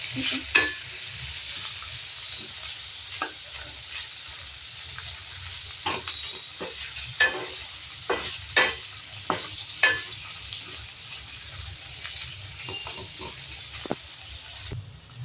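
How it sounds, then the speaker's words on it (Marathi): Paneer with peas and vegetables frying in a pan, a soft continuous sizzle broken by repeated spatula scrapes and taps against the pan at irregular intervals. "आपल्या भाज्या पनीर वगैरे छान फ्राय झालेला आहे."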